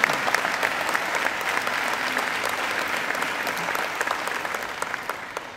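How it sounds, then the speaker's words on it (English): A graduation ceremony audience at Macquarie University gives sustained applause, a dense, even wash of many hands clapping at moderate distance without talk. "So they deserve a great round of applause too."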